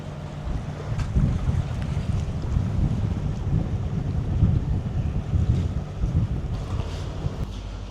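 A boat anchored in a strong current during heavy rain, waiting to dock, rocks on the water. A steady, loud low rumble of wind and water runs throughout with no pauses, and no one speaks.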